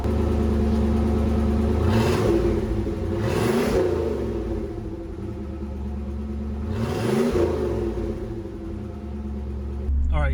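A Trans Am engine with an aftermarket Flowmaster exhaust rumbles deeply and steadily, with a throaty exhaust note swelling through a few rev surges, close and loud throughout.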